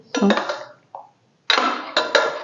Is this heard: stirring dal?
yes